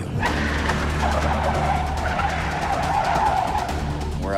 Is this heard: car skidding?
yes